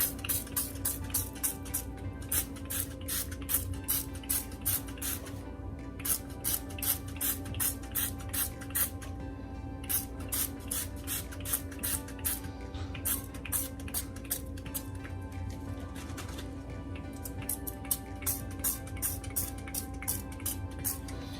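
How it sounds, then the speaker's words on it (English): Repeated short hissing sprays from an aerosol can of CrystaLac sealant, bursts coming in quick rhythmic pulses against a steady background hum. "pump spray on to seal our glitter in"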